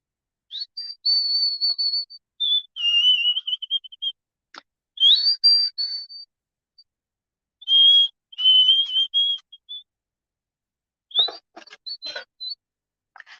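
Someone whistling alone indoors, a series of short, clear high-pitched tones in separate phrases with pauses between them, close and fairly soft, with a few clicks near the end.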